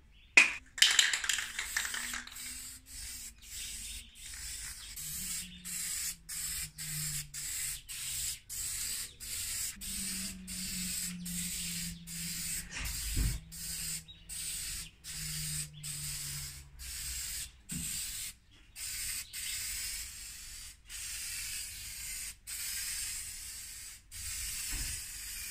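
Rust-Oleum clear coat aerosol sprayed onto a DIY door frame in repeated short hissing bursts with brief gaps, fairly close and steady, with faint low hum underneath and no talk.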